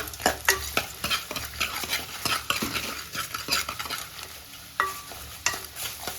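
Salted ingredients for ghee rice being sautéed in a pan, with a busy close sizzle punctuated by repeated scraping stirs and clacks of a spoon against the metal.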